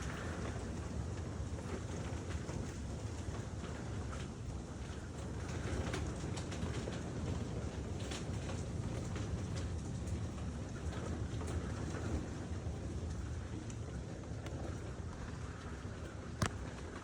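Steady rain during a tornado storm, heard from inside a vehicle behind a poorly sealed, blurry window: a constant dense wash of noise with no talking.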